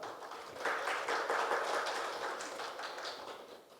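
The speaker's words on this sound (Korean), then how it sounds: "큰 박수로 맞이해 주시길 바랍니다" An audience at a Korea University award ceremony and lecture claps to welcome a speaker, a soft, even patter of many hands that swells briefly and then slowly fades, heard from a distance.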